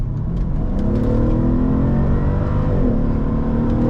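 A 2012 Mercedes SL500 engine hums steadily from inside the cabin in eco mode around 80 km/h, its pitch climbing gradually as the car accelerates, with no talking.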